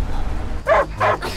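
Dogs chasing the player in the survival game Die Young, with two short, sharp yelping barks close by over a low background rumble.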